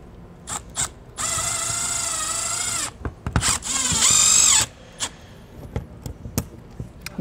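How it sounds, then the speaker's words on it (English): A power drill drives screws into an RV power inlet on a 2007 Starcraft Homestead, with two close, loud whirring bursts separated by brief clicks and handling knocks, and no talk. "now we can go ahead and secure our power inlet into our blank here using some screws"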